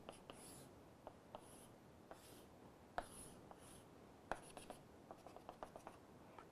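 Chalk or marker tapping and scraping on a board while a BCC unit cell is drawn during a lecture, with repeated short strokes and taps, fairly faint and close, with no talk.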